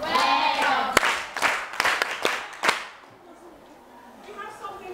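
A classroom of students claps for a classmate during a teacher-observation lesson: a handful of sharp, uneven hand claps over about two seconds, close and fairly loud, with voices murmuring before and after.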